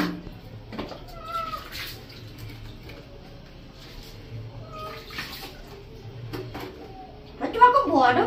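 Cat meowing while being bathed at home, several wailing cries scattered among splashing water, with someone talking soothingly over it.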